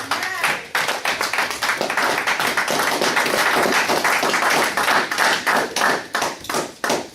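A church congregation at a Sunday service claps together in a dense, steady wash of applause with rhythmic hand taps, loud and sustained, with voices faintly mixed in.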